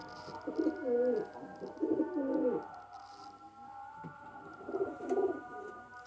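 Lakha Badshah pigeons cooing in a series of soft, rolling, throaty phrases, with quiet gaps between them and a low background hum.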